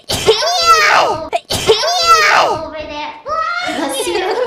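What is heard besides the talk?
sneeze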